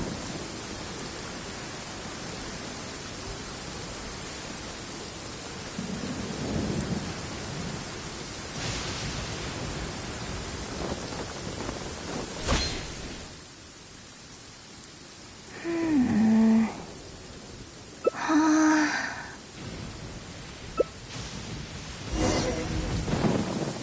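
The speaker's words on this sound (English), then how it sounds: "It always rains when I go on an adventure. Don't stand too close to me, or you might get hit by lightning too." Steady rain hiss and rumbling thunder from a PS4 video game, a continuous wash of rainfall with a deep thunder roll and sharper crack midway, plus some brief tonal game effects.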